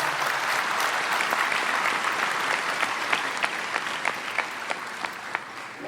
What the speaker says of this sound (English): Can we give them all a round of applause for all their service?